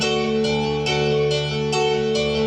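A piano plays a ballad rhythm pattern in D as full block chords, each struck about every 0.4 seconds and left to ring, close, resonant and fairly loud.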